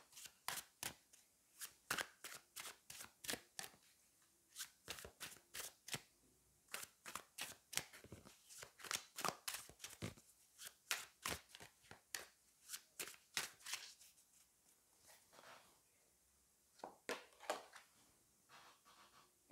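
Tarot cards shuffled by hand again and again, crisp riffling flutters in a steady run of short bursts, close and fairly quiet, with no voices.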